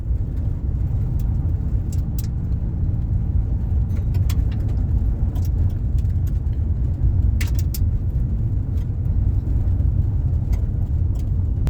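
A car drives along gravel country roads near a prairie fire, with a steady loud low engine and road rumble throughout and faint scattered bird chirps above it.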